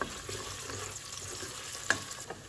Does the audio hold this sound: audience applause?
no